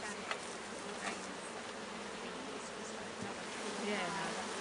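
Bees swarm around a single hive box at an outdoor field day, a continuous close buzzing hum with faint background voices now and then.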